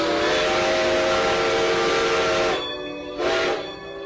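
A tourist steam train in Atlántida, Honduras hisses and rumbles steadily with a sustained whistle-like tone, then the sound cuts back twice in quick bursts near the end.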